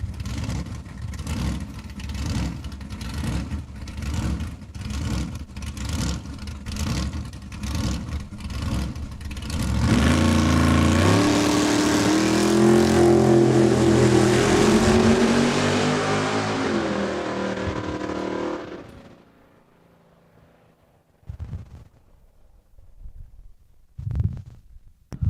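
A drag race car makes a quarter-mile pass at Saskatchewan International Raceway: a loud, pulsing engine idle, then a roaring full-throttle run that fades away into near silence, with a few distant thumps.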